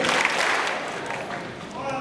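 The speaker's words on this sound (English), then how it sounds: "Clap twice if you hear me." At a day rally, the audience claps on cue, making a brief, fairly loud burst of crowd clapping that washes out under a speaking voice.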